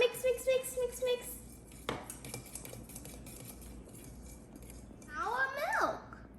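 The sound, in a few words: mixing cake batter with egg and flour in bowl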